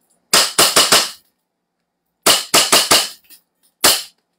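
Airsoft gun rated around 420 FPS fires in two close, loud bursts of four and five sharp snapping shots, then a single final shot after a pause, with no voices.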